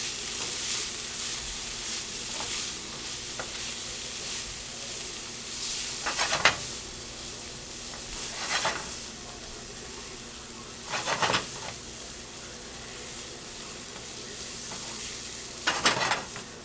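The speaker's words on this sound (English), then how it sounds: "We're going to give it a nice little mix." Vegetables are stirred in a hot frying pan for a vegan dish: a constant close sizzle and hiss, broken every few seconds by louder spoon scrapes against the pan, with no talking.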